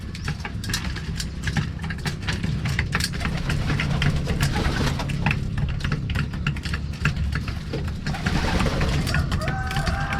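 Steady, low cooing of racing pigeons repeats throughout, layered over a dense background rumble, with no voices.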